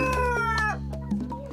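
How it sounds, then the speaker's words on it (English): Chickens call close by, with a few drawn-out clucks and short squawks in quick succession. "First up, George's chickens."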